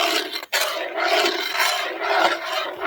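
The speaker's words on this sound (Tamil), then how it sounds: "அப்படியே கிண்டிக்கிட்டே இருக்கணும்." Semolina (rava) stirred continuously in a pan with ghee, giving a close, steady gritty scraping with a brief pause near the start, and no one talking.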